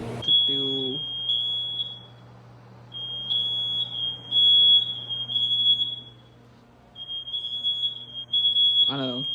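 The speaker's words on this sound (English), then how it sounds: "and the alarm is off again" A shrill smoke alarm sounds in repeated high bursts with short gaps, loud and close, while a person talks over it.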